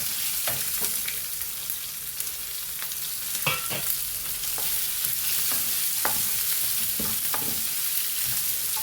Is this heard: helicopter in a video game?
no